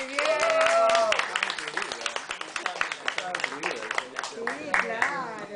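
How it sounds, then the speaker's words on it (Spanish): After a piano performance at a café arts venue, a small audience gives scattered clapping. Close voices talk over it and laughter breaks in throughout. "Un aplauso para el piano,"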